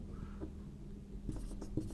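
Pen scratching on paper while working through an atomic-structure problem in a Class 11 chemistry lesson, a few short strokes and taps with quiet room tone in between.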